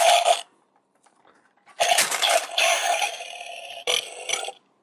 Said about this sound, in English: I love the burping. I really do.